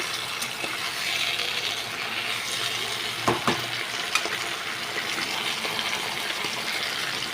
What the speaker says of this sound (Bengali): ওইটুকু ইলিশ মাছের চোপড়া ভেজেছি